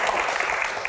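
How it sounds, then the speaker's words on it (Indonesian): Dense, steady clapping from a crowd fills the whole moment, loud and continuous without pauses. "Tepuk tangan, Pak Supratman."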